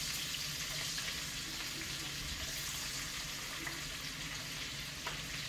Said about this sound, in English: now it's time to start adding the vegetables into the saute. Green peppers, the peppers in first